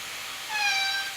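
A pet cat gives a single drawn-out meow indoors, close and moderately loud, rising then fading over about half a second against quiet room tone.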